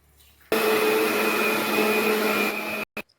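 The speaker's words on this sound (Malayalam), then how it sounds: "അപ്പൊ പാലും കൂടി ചേർത്തിട്ട് അടിക്കാട്ടാ." An electric blender whirs steadily for about two seconds as it blends fruit juice with milk for an iftar meal, starting abruptly, then stopping with a short final pulse.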